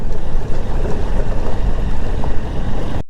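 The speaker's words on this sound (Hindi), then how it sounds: "पहला या दूसरा गियर में भाई बाइक चल रही है" A motorbike labours up a steep, rough mountain road between Kaza and Delhi in first or second gear, its engine a steady, loud, close rumble buffeted by wind noise throughout, with no one talking.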